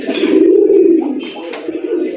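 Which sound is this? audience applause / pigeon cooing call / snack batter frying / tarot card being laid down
pigeon cooing call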